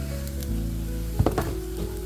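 Rice with bacon, mushroom, turmeric and black pepper sizzles in a pan as it is stirred, a low steady fry broken by a few brief scraping knocks from the utensil.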